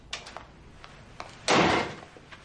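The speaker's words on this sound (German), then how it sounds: "Die Tür ist offen, Jenny." A door opens indoors: a few faint taps and handle clicks, then a louder sliding or swinging sweep lasting about half a second, followed by quiet.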